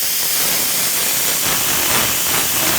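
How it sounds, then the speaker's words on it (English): Instant Pot pressure release valve venting steam while cooking a whole chicken, a loud, steady, close hiss that holds unbroken throughout. "You can't tell, but it lets the steam out."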